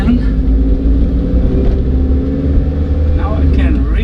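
A Scion tC with its muffler deleted, driving on a road, gives a loud, steady low engine and exhaust drone close up, with someone talking over it.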